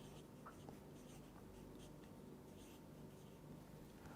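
A word is handwritten during a lecture. Faint, quiet scratching strokes come in short bursts over a steady background hum, with no talking.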